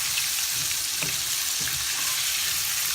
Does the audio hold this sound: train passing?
no